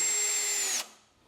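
A power drill driving a screw into wood whirs steadily at high speed for most of a second, then stops abruptly, leaving a quiet tail. The sound is close and loud.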